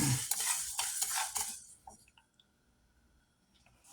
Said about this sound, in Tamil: இப்போ இந்த பொரிஞ்ச பொரியரிசியை வேறு பிளேட்டுக்கு மாற்றிக்குவோம்